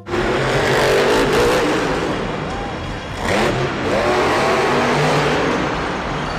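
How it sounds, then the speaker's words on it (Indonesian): A monster truck engine roars loud and close, revving steadily with a brief dip midway before surging again, with no voices over it. "Mobil truk monster, teman-teman."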